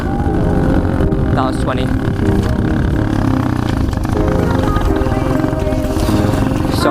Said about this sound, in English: you're gonna see how fast my 110cc pit bike can accelerate today